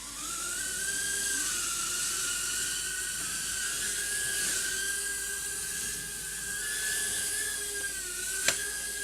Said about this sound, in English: we'll just do a bit of flight footage on the bench to just show you how stable this little craft is